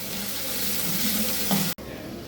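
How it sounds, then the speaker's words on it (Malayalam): Chopped green chillies, two or three of them, sautéing in a pan for a Kozhikode-style fish curry, a steady close sizzle that continues alone with a brief cut near the end. "പച്ചമുളക് അരിഞ്ഞത് ഇതൊന്ന് നന്നായിട്ടൊന്ന് വഴറ്റിയെടുക്കാം"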